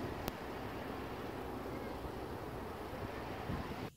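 Strong wind roars steadily across the microphone with a broad rushing hiss, like stormy gusts over Lake Jesup from a boat, with no voices.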